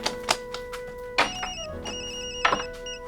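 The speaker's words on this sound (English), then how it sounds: "As soon as I heard the phone," A telephone rings with repeated electronic trills in bursts, moderately loud, amid faint background music in a children's show.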